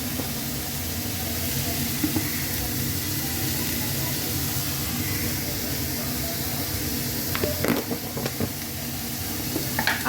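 Spices frying in a pan with turmeric for a sago dish, a loud steady sizzle and hiss throughout, with a few sharp utensil scrapes and clinks near the end, close by with no voices.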